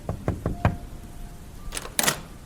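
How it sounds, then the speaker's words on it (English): Knocking on a door: four quick knuckle raps in a steady rhythm, then a pause and two more knocks, close and fairly crisp. "knocked on his door"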